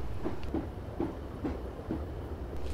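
A Class 156 diesel train coasts along the rails in Train Simulator 2015, its wheels giving steady rhythmic clicks over the rail joints about every half second. A low rolling rumble sits under the clicks, and the whole sound is fairly faint.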